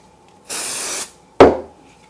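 One half-second spritz from a spray bottle hisses up close, followed by a sharp thud as something is set down.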